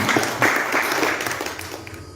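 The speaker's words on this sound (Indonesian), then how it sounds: "Kita beri aplaus untuk Cak Ju ini" An audience applauds the poet Cak Ju at an Indonesian cultural gathering, a short burst of dense clapping that swells at once and then slowly fades.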